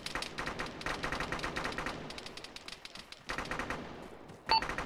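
Automatic gunfire in Arma 3 during a co-op hilltop firefight, long rattling bursts of rapid shots that break off briefly and resume, ending with a short sharp high tone; no voices.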